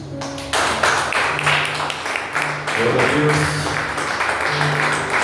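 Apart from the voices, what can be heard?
congregation applauding in church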